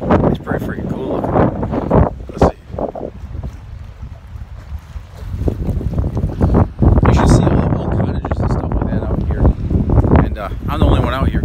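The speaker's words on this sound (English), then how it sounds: "it's pretty windy out here" Gusty, chilly wind by a lake buffets the microphone outdoors, rumbling in bursts, with a person talking over much of it.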